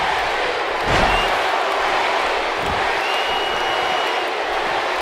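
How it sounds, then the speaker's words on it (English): Crowd in the WWE 2K18 wrestling video game cheering for Randy Orton and the tag team champions at a SmackDown Live show: a dense, steady roar of arena noise throughout, with a brief swell early on. "The crowd cheering on the tag team champions here."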